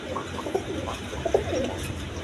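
A Cream Bar Beauty pigeon pair, a hen and a cock, cooing softly and repeatedly at close range, with low murmuring coos over a light background hum.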